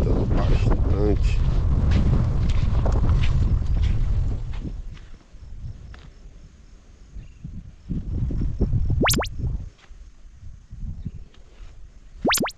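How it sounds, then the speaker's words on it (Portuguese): Strong wind blowing at a riverside campsite on the Tacutu River, a loud steady buffeting roar that drops off midway and gusts back, with brief chirps near the end. "hoje, graças a Deus, amanheceu ventando bastante"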